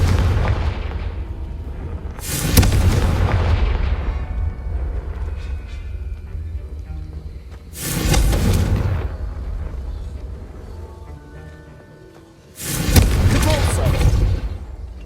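Confringo fire-blast spells exploding in the Hogwarts Legacy video game: three loud booming bursts spaced several seconds apart, each a broad rumbling blast over a steady low game-music and ambience bed.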